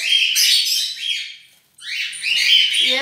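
A male pink Bourke's parakeet chirps in two loud, close bursts of bright tweets separated by a brief pause, with no other sounds.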